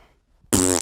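A short, loud mouth-made fart noise, a voice imitating flatulence with a buzzing lip raspberry that lasts under half a second after brief quiet.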